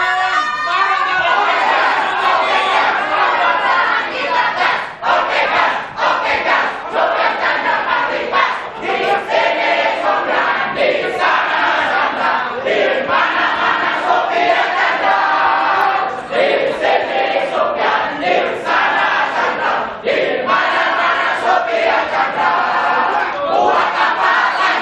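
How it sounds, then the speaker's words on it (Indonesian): Supporters of candidate pair number 2 at an Indonesian election debate chant loud campaign yells in unison. The crowd roars continuously and densely for about 25 seconds, with rhythmic shouted bursts. "silakan yel-yel paslon nomor urut 2"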